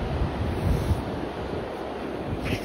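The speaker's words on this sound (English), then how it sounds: "And then the waves are coming." Ocean surf at Ponce Inlet beach on an evening walk: a continuous, rushing wash of waves close by, mixed with gusty wind buffeting the microphone, with no voices.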